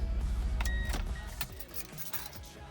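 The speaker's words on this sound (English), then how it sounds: "it almost sounds like it has a misfire" A Mazda Miata, fitted with new spark plugs and wires, runs rough with an apparent misfire, giving an uneven low engine rumble close by with irregular clicks and knocks over it.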